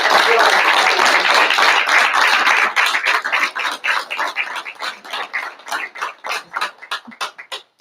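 Audience applause at a school board of education meeting honoring the board president: dense clapping at first, thinning into scattered individual claps that taper off, with faint voices beneath.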